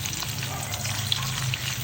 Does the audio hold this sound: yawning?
no